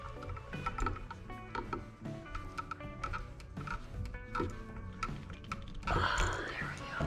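A screwdriver tightens a terminal screw on an electrical outlet being replaced, giving close, irregular ratcheting clicks and scraping metal ticks that grow busier toward the end, with no talking.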